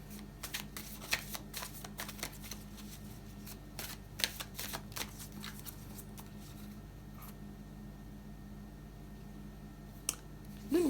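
Tarot cards being cut and shuffled, producing rapid riffling bursts and soft flicks close up, with no talk over them.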